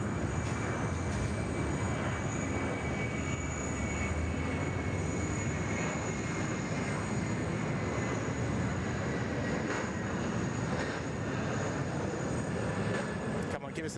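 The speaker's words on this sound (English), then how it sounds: "Qantas A330 just getting underway off runway 34 left" A Qantas Airbus A330 jet taking off from runway 34 left, a steady broad roar of engine power that holds evenly throughout, moderately loud and somewhat distant, with no voices heard.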